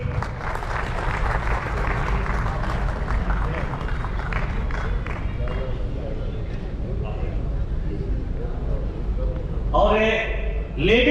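Sustained applause from an audience at an academy celebration program in Bhilwara, a dense, steady wash of clapping that fills the room, with a voice rising near the end.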